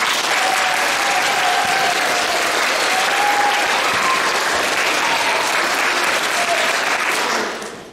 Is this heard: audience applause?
yes